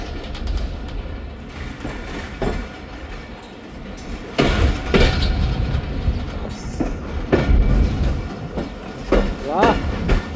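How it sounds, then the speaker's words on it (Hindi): The Khyber Mail train pulls out of Rahim Yar Khan station around dusk, with rumbling and rolling wheel noise, intermittent clanks and squeals, and some distant voices and birds in the background. "पर दोस्तों ट्रेन रवाना हुई हमारी रहीम यार खान से"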